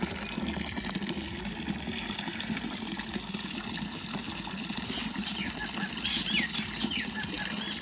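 Rice grains being washed by hand in water at home, with continuous sloshing and swishing of liquid at a steady moderate level, faint birdsong in the background.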